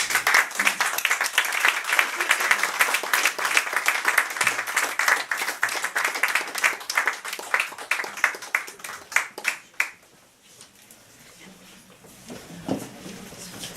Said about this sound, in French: On applaudit encore une fois David Boucher